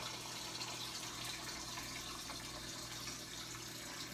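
Filtered water pouring steadily from a tap or filter into a measuring cup in a kitchen, a continuous close, even splashing flow with no break and no talk.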